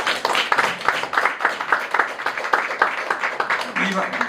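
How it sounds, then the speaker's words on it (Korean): Audience applause after a lecture at a seniors' forum, with dense steady clapping running through the whole stretch and a voice briefly audible near the end. "다시 한번 박수 한번 쳐주십시오."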